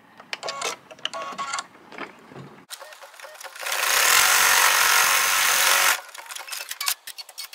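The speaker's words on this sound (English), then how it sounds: "we're going to stitch the foam placement line" Sewing machine stitching a foam placement line on a fabric pie tote, with a steady loud whirring run of about two seconds standing alone between quieter handling noises.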